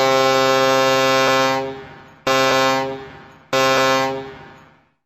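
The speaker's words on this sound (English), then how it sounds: "Start sounding your foghorn. Sailing vessels must sound 1 prolonged blast plus 2 short blasts every 2" A sailing vessel's foghorn sounds one prolonged blast followed by two shorter blasts, each a loud, deep, steady horn tone that fades out, with no voices.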